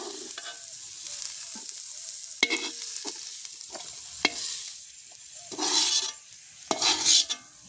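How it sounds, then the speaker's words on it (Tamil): Green chillies and onions sautéing in a pan at an outdoor village kitchen: a continuous sizzle broken by repeated scraping stirs and sharp ladle taps, with a few louder bursts of hissing near the end. "பச்சை மிளகா வெங்காயம் நல்லா வதங்கிட்டு நாங்கள் அதை வடிச்செடுப்போம்."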